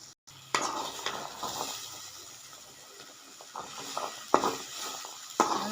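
Masala chickpea sundal stirred in a pan, with repeated scraping and clinking of a spoon against metal over a steady soft sizzle, close and alone with no talk.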